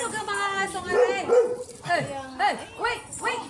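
A dog barks and yips in a series of short, close bursts, mixed in with people chatting.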